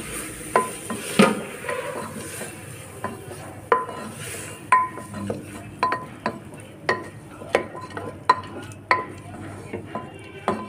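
Spinach cooks with dal spices in a pan while a spatula stirs it, giving regular sharp clinks and scrapes against the metal over a faint sizzle, close and steady.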